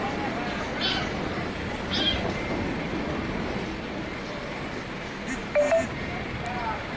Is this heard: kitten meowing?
yes